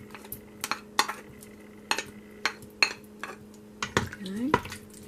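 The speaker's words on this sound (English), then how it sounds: "I'm going to add up some cut up potatoes" Cut-up potatoes, about four small to medium ones, tumble into an Instant Pot for vegetable beef stew, making a string of close, uneven clunks and clinks against the metal pot with brief scraping between them.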